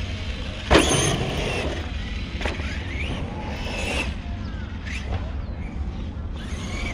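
A Traxxas Sledge RC monster truck on its first run, its motor droning loudly and steadily throughout with a few sharp bursts and skids.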